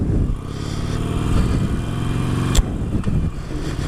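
A 2017 Harley Davidson Iron 883, still in break-in with about 200 miles on it, rumbles steadily while being ridden, its engine note loud and close throughout with a brief louder bump partway through.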